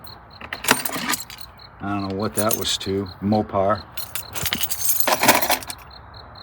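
An old collection of original car keys is sifted and shaken, giving bright metallic jangles in bursts at the start and near the end, while someone talks between them.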